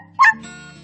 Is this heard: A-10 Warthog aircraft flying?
no